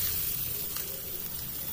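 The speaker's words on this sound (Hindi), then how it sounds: "प्याज को डालने के बाद इसको अच्छी तरह से हमें थोड़ी देर भूनना है।" Chopped onion frying in hot oil with cumin seeds for aloo tikki, giving a steady, close hiss of sizzling that runs unbroken throughout with no voices.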